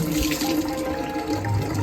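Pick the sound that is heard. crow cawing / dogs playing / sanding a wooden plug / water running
water running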